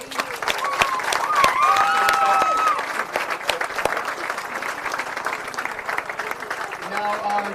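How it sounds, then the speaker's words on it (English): Crowd at a girls' OHSAA Division 2 bowling district tournament claps steadily for the bowlers, a full, moderately loud round of applause mixed with a few cheers and whistles, thinning slightly toward the end. "And once again, for all of our bowlers, a nice round of applause."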